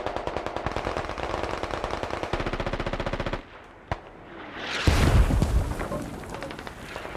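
Sustained automatic machine gun fire in the military shooter game Squad, rapid steady bursts for about three seconds, then a brief pause, a single sharp crack and a louder booming impact with rumbling debris.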